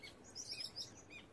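Birds chirping and tweeting outdoors near trees, bushes and a river with moored yachts, a busy overlapping chorus of quick high calls at moderate distance, with no talk.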